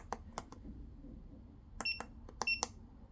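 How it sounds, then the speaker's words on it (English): Several short, high electronic beeps from a Kingbolen BM520 battery tester, spaced irregularly with quiet handling noises between them. "There you go, there's the beep."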